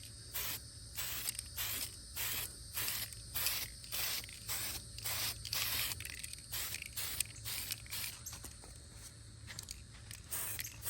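An aerosol spray paint can hissing olive drab paint onto an airsoft helmet in a series of short, steady bursts, repeated rhythmically throughout, close to the microphone.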